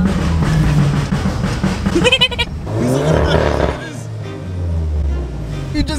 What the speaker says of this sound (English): You just got told not to rev it.